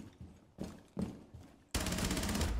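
Hipfire gunshots in Rainbow Six Siege, a few sharp single shots spaced apart, then a sustained loud burst of rapid fire to the end, close and dominant.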